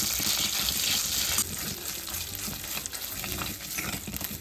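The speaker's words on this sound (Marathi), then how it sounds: "हा मसाला मी परत थोडा परतवून घेते" Spice masala sautéed in a pan while cooking Kolhapuri chicken, a continuous close sizzle with soft scraping and stirring, fairly even and quiet, with no talking.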